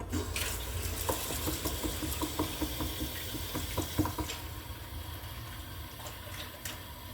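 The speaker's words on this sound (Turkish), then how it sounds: "Neyse ya tekrar sıcak su katacağız." Hot water runs from a tap or is poured to make cold coffee at home, giving a steady splashing flow with small clinks, close by, that eases toward the end.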